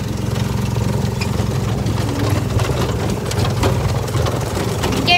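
A go-kart engine runs steadily throughout on a scrap-area trail ride, a loud continuous low rumble with a faint rattle and no pauses.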